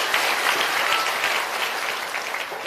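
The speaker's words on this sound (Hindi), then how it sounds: "एक बार जोरदार ताली बजाइए प्रसाद जी को।" Crowd applause at an outdoor public meeting in Puraini block, Madhepura: dense, steady clapping that fills the whole stretch without letting up.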